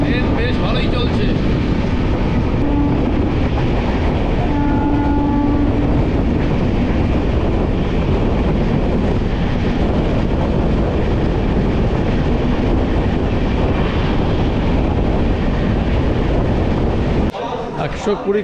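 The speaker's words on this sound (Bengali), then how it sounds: "ট্রেন বেশ ভালোই চলছে" The 12883 Rupasi Bangla Superfast Express runs at speed near Medinipur, heard from inside as a loud, steady rumble with rhythmic wheel clatter throughout, ending in a sudden jolt, with occasional voices in the carriage.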